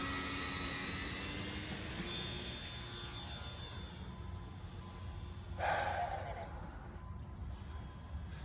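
An E-Flite Air Tractor 1.5 m RC plane on a 3S battery flies outdoors, its electric motor a steady high whine that shifts in pitch as it passes, with a brief louder burst midway.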